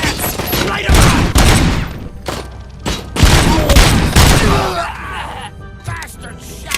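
Gunfire in the video game RoboCop: Rogue City, loud rapid bursts of shots that come in clustered volleys with short lulls between them, mixed with shouting voices.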